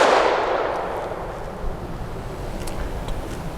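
A single shot from a Canik SFx Rival S competition pistol firing Red Army Standard 115 grain steel case ammunition, a sharp loud blast at the start that decays into a long fading outdoor rumble.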